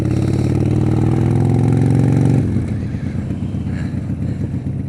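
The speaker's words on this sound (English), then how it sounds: "I was just adjusting the manual idle control, turning it down a couple notches." A small engine runs at a steady, loud, throbbing idle, then the revs drop partway through to a lower, rougher, pulsing idle as the manual idle control is turned down a couple of notches, with no talk.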